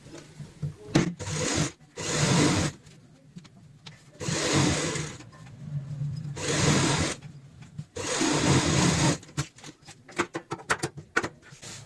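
A sewing machine stitches along the zip of a cloth purse in several bursts of rapid, even whirring clatter lasting a second or two each, separated by short quiet pauses.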